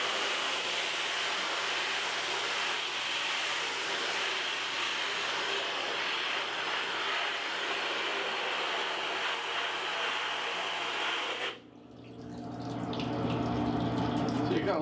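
A steady, loud spray of water washes unexposed emulsion off an underexposed screen-printing screen, a dense continuous hiss that briefly drops and shifts near the end.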